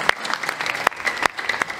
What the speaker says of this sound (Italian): Facciamogli un applauso a questa figura,